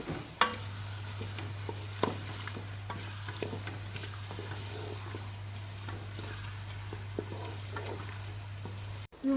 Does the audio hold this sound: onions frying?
yes